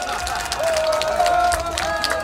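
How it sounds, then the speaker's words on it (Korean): A crowd at an outdoor political rally claps, a steady sustained round of applause from many people, moderately loud, with a faint tonal sound running underneath. "박수 한번 주세요. 박수."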